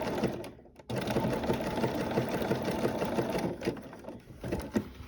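A sewing machine stitches down a coiled rope bowl, its needle running in a steady, dense rattle that cuts out briefly near the start, then continues close and loud with slight speed changes.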